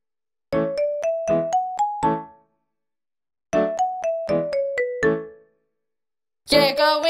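Bright, bell-like chimes play short ascending and descending runs in two separate bursts for a clock striking in the Hickory Dickory Dock nursery rhyme song, followed by a brief sung note.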